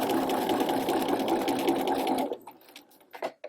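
Sewing machine running steadily as it stitches a narrow rolled hem with a hemmer foot, a continuous close whir that stops at about two-thirds through, leaving a few faint handling clicks.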